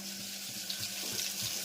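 Tap water runs steadily into a pressure cooker while a home cook prepares bitter gourd curry, a continuous close splashing stream with no voices.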